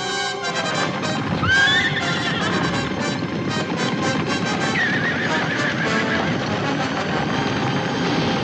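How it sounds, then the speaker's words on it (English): Horses being turned loose whinny loudly several times while hooves clip-clop in a busy trampling rhythm, over dramatic background music in a 1953 Western. "Now turn those horses loose that Lieutenant Travis found."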